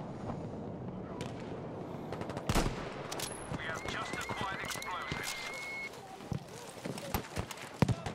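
Gunfire from the video game Battlefield V, a run of sharp shots with one loud crack early on and scattered bursts later, set among busy battle noise and under a speaking voice.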